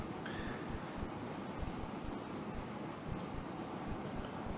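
Sauce reducing on full heat bubbles steadily in the pan, a faint continuous hiss of popping and simmering heard alone.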